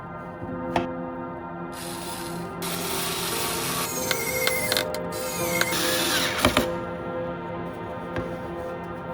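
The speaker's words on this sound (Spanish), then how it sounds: "Atornillaremos este suplemento de madera con estos dos tornillos." Two screws driven to fix a wooden block onto a wooden base, a steady close mechanical whirring and grinding with ratcheting clicks and scrapes, loud and continuous with no talking.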